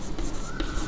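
Pen or marker writing on paper while working through a maths logic exercise, a steady soft scratching with a few brief stroke accents across one second, close and fairly quiet, with no talking.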